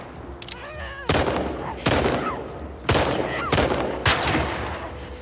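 Four loud hunting pistol shots ring out about a second apart in The Last of Us Part II, each with a sharp crack and echoing tail, with brief voices and game noise underneath.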